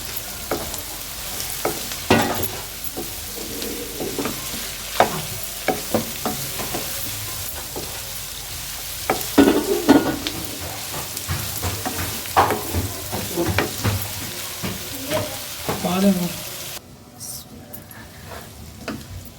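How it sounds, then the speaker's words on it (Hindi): Green onion and cabbage are stir-fried in a pan for chicken macaroni, with a steady sizzle and frequent sharp scrapes and knocks of a spatula, fairly loud and close, with a voice talking over it at times. "अब ये डाल देंगे इसमें ग्रीन प्याज भी और ये बंद गोभी भी, इसको मिक्स कर लेंगे।"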